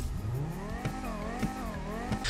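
Dodge Viper engine running in GTA 5, a junkyard-found wreck just started: a game engine sound that rises and falls through repeated revs, with short tonal sweeps and periodic thumps, at moderate volume.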